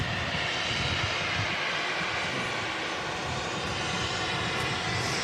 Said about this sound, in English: that EasyJet absolutely greasing it down. He's in from Prague.